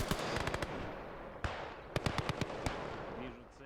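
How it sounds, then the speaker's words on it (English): Gates of Hell: Ostfront game battle in the woods, with scattered rifle shots and short bursts of automatic gunfire cracking at uneven intervals, some close and sharp, others softer and farther off. "It's a bit of a firefight in the woods."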